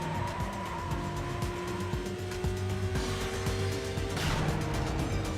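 In the Need for Speed: Most Wanted video game, a car engine climbs in pitch toward redline and shifts up, the whine stepping down and rising again. It plays loud and continuous, with tire noise and no talking.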